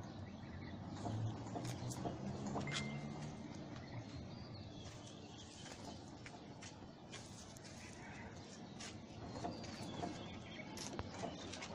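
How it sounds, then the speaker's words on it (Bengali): A green-neck and cumin-neck cross high-flying pigeon sits in a loft, with soft, low cooing over steady background noise and occasional faint rustles and clicks. "এটা খুব ভালো একটা কবুতর, সবুজ গলা আর জিরা গলার ক্রস ব্রিডের।"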